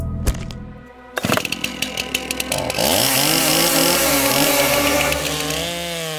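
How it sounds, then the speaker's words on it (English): A chainsaw starts with sharp pulls and sputters, then revs into a loud, steady snarl as it cuts through wood, the engine pitch rising and falling near and up close. "In the wrong hands, a chainsaw can be dangerous"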